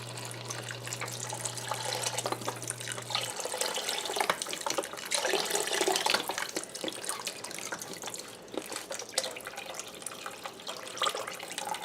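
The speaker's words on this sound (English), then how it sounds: "I'm going to add in my chicken broth first." Chicken broth, a full four-cup container, is poured steadily into a soup pot in a kitchen, a continuous close splashing trickle with small gurgles, fairly quiet and free of talk.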